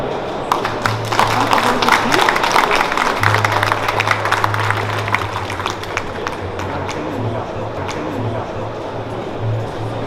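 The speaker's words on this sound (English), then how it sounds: "Please welcome our senior manager, Kim, with a big round of applause." Audience applause welcoming a speaker at a Hyundai Rotem hydrogen announcement at InnoTrans 2022, a steady burst of many hands clapping that gradually thins, with background music and some crowd noise beneath it.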